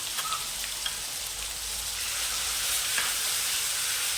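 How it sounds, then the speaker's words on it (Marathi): A green paste of onion, coconut, garlic, ginger and coriander sizzles steadily in a pan while being stirred, a close, even frying hiss with faint scrapes and no voices. "व्यवस्थित चांगलं मिक्स करून घ्यायचंय। थोडं परतून घ्यायचंय बघा।"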